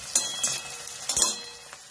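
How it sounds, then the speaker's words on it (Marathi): Onion dropped into hot oil for a papdi bean stir-fry, giving a soft close sizzle with a few stirring scrapes and light clinks of a utensil against the pan, no talk. "तेल चांगलं गरम झालेलं आहे. आता याच्यामध्ये कांदा घालायचा."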